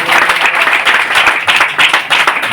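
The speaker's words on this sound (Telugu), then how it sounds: "నమ్మితే చప్పట్లు కొట్టండి." A crowd at a grand Christmas gathering in Tadigadapa claps steadily, dense and loud applause filling the whole stretch with rippling bursts.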